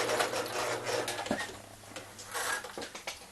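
An older sewing machine starts up haltingly and runs in short uneven bursts while sewing a straight seam, close by, with small mechanical clicks between runs.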